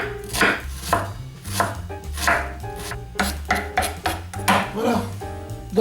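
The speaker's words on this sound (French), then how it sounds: "on va s'occuper de l'oignon. Donc on l'épluche et on va le couper en petits morceaux." Knife chopping an onion into small pieces on a board, quick irregular taps in close succession, heard near and crisp with talk and a low background tone underneath.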